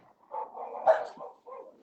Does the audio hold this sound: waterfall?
no